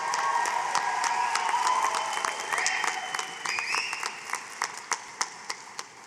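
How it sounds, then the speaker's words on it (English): An audience applauds at a secondary school graduation convocation, steady dense clapping that thins into scattered individual claps toward the end. "let's give them a round of applause"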